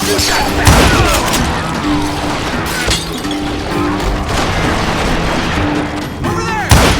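Gunfire in the Western shooter Call of Juarez: Gunslinger comes as loud, overlapping volleys of shots with sharp cracks and crashing impacts throughout, the firefight continuous and close.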